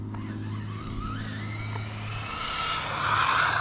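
Kyosho Fazer RC Camaro driving and skidding, a buzzing electric motor with rising whine and tire scrub that grows louder toward the end, close and without talk.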